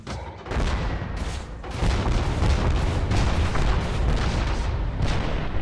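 Grenade launcher from the Techguns Minecraft mod firing off rounds in quick succession, producing loud, heavy booming blasts that run together into a dense, continuous rumble of explosions.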